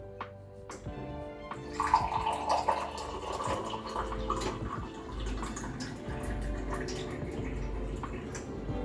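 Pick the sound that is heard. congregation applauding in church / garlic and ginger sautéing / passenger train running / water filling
water filling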